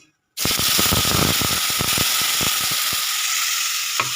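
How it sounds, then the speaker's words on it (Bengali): Ginger, garlic and onion spice paste hits hot oil for fried momo: a sudden loud sizzle bursts out of silence and holds steady, with sharp crackles and pops over it. "তেলটা গরম হয়ে গেছে আর আমি দেবো এবার এই যে মশলাটা করেছি এই মশলার হাফ দেবো"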